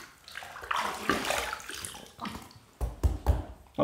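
A razor is rinsed under running tap water in a bathroom sink, a steady close splashing gush with a few sharper knocks and swishes near the end.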